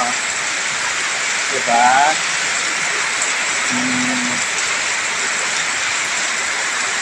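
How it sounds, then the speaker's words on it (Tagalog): Heavy morning rain pours steadily as a dense, constant wash close by, running without pause the whole way, with brief speech breaking in once over it. "Anong oras pa lang, pero lakas ng ulan."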